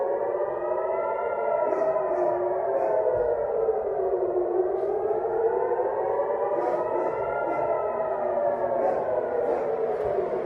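A distant air raid siren in Tel Aviv during rocket fire wails in slow, rising and falling sweeps, steady and droning throughout with no voices.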